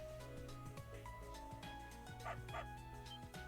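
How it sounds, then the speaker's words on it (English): Repeated yipping barks from a dog in the video game Tokyo Xanadu, several quick bursts over a busy game soundtrack, moderately clear and close. "Dog."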